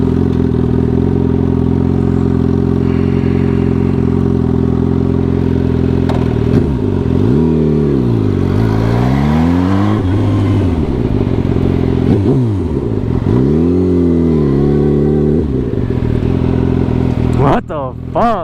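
Suzuki GSX-R 1000 fitted with a turbo, its engine droning steadily at first and then rising and falling in repeated hard revving surges up close, with a voice talking over much of it.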